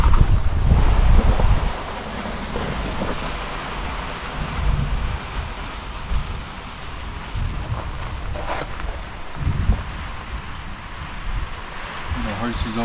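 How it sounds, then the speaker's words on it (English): Strong gusting storm wind on Pacaya Volcano, Guatemala, buffets the microphone in loud, rough bursts, with faint voices underneath. "as you will hear, the storm comes in strong."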